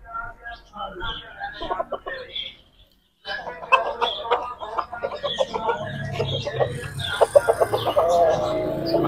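An Aseel chicken clucks repeatedly amid a busy backdrop of overlapping voices and clatter, with a brief silent gap near the start.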